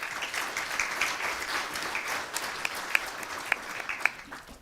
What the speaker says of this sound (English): And a natural round of applause there